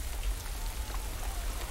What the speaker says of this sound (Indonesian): Oh, mau hujan ini, pokoknya.